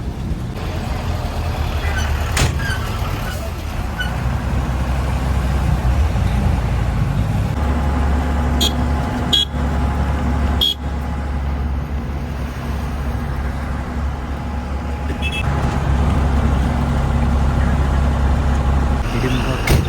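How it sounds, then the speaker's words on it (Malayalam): A local bus from Manali toward Kasol runs with a steady, loud engine drone from inside the cabin, with a few short hissing bursts along the way. "മണാലി പോകുന്ന ബസ്സാണ്."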